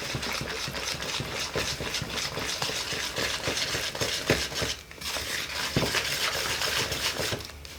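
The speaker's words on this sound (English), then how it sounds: "So I'm going to mix this in first with a whisk." Eggs are whisked into crepe batter in a home kitchen, making a continuous rapid clatter and slosh of a whisk against a bowl. The sound is close and moderately loud, with no talking over it.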